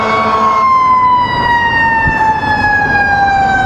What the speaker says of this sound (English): We got a fire engine. Yes, we do. Went by, heard the sirens.